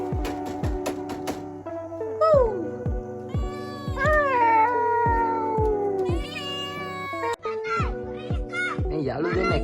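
A cat at Lakshapana near Nuwara Eliya meows and caterwauls repeatedly, close and loud, with drawn-out wailing cries and short meows, while a voice chatters alongside.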